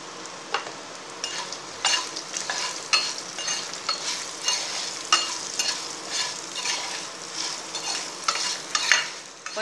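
Asafoetida powder crackles and sizzles in hot oil for ginger chutney, a continuous close frying hiss with occasional stirring scrapes.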